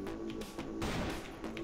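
Gunfire in the video game CrossFire, a rapid burst of loud shots with sharp repeated impacts over about a second and a half.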